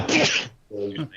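A single sharp sneeze bursts out close to the microphone, followed at once by a person speaking briefly.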